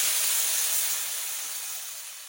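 Water poured into a hot pan of eggplant and fish curry sets off a loud, close steam hiss that starts at full strength and slowly fades over a couple of seconds.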